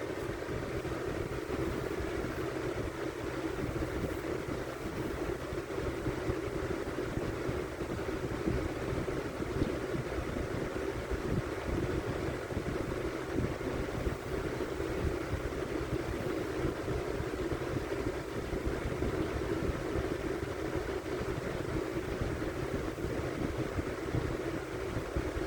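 A blue box fan runs on speed 2 with a steady, even whir and a low motor hum. The sound stays constant and moderately quiet, with no voices.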